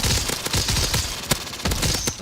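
Rapid automatic weapon fire from Black Ops 3 custom zombies with a Modern Warfare Zombies mod, a dense continuous burst of close, loud shots with no pauses.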